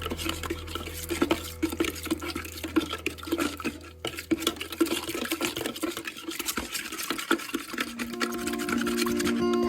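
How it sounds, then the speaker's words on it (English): Fork stirring a deer jerky marinade solution, rapid irregular clinks and liquid swishes against the container, close and continuous, with a steady hum rising near the end. "Okay, you just stir."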